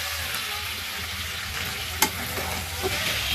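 Tomatoes stir-fried in a pan for curry, a steady close sizzle with stirring scrapes and one sharp utensil clink midway.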